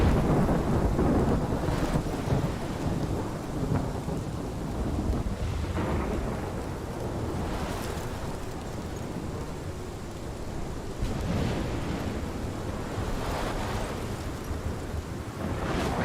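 A thunderstorm in the video game Life is Strange, episode 5 "Polarized": heavy rain hisses continuously while deep thunder rumbles roll in and swell several times, with no talking.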